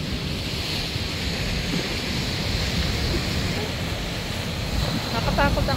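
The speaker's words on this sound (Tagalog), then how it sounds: "Nakakatakot ang alon." Sea waves surge and wash steadily at the shore, a continuous broadband roar mixed with wind buffeting the microphone, with a few faint voice-like sounds near the end.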